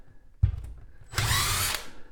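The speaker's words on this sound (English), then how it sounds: "I need to switch over to a Phillips drill bit," Cordless power drill with a Phillips bit widening a screw hole for a Ford Mobile EV charger mount: a thump, then a short loud whirring burst of about half a second that winds down.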